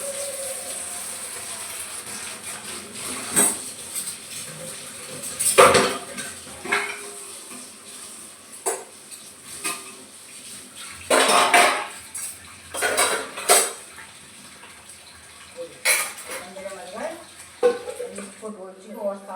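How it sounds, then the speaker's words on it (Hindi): Greasy pots, pans and cutlery being washed by hand in hot water in a home kitchen, with scattered clanks and scrapes of metal utensils and someone talking over the work. "तो गर्म पानी से फटाफट साफ हो जाती है चिकने बर्तन"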